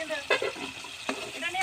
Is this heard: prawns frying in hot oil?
yes